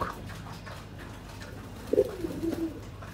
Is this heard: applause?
no